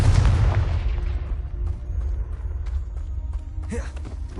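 A Confringo blasting spell explodes in Hogwarts Legacy, a loud low boom at the start whose rumble decays over a couple of seconds, followed by quieter debris crackles and a brief burst near the end.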